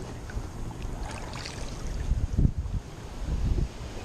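Wind buffets the microphone in low, uneven gusts beside a river, swelling into stronger bursts near the end over a faint watery background.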